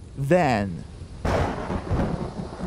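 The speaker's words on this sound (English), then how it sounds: "a lightning bolt strikes the plane" Radio-drama thunder from a lightning bolt striking a white airliner in a storm: a brief spoken word comes first, then a loud, booming crack rolls into a sustained rumble to the end.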